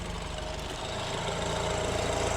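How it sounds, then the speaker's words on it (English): A steady, low engine hum runs throughout with a constant mechanical drone, like a car sitting at idle, close and even in loudness. "with the engine running here"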